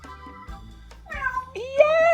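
A pet parrot imitates a cat's meow indoors, giving drawn-out rising and falling meow-like calls close by, with a person's voice faintly underneath.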